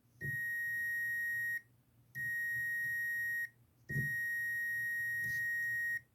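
Three steady high-pitched electronic beeps from a multimeter continuity test, each lasting over a second with short gaps between, clear and close with no talking.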